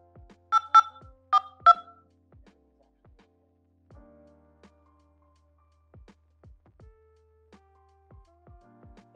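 Telephone keypad tones as a PIN is entered on an automated payment line: a few sharp dual-tone beeps in quick pairs early on, then quieter clicks and short tones spaced apart, no voice.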